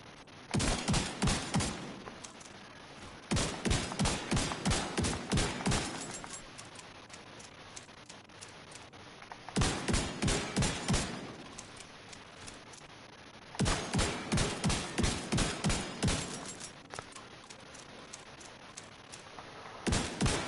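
A Super 90 tactical shotgun fires in The Division 2 in four rapid bursts of loud, evenly spaced blasts, each burst separated by a short quiet pause.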